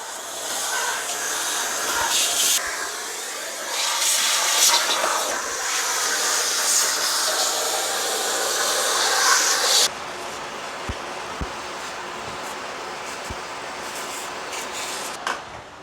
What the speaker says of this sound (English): use a vacuum to get all the big dirt out first